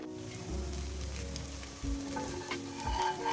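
Crisp instant tempered dosa sizzling on a hot pan after oil is drizzled on top, a brief close hiss that swells and crackles, alone without talk.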